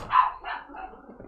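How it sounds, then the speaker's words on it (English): Dogs barking in a home kitchen: a few quick, fairly close barks in a short burst, heard alone. "My goodness, the dogs."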